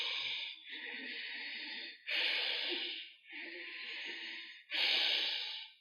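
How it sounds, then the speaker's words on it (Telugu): Deep yoga breathing during a therapy exercise for ankylosing spondylitis: slow, forceful inhales and exhales alternate close to the microphone, about four or five long breaths in a steady rhythm, with no speech. "ఇప్పుడు కూడా గట్టిగా శ్వాస పీల్చుకుంటున్నాం"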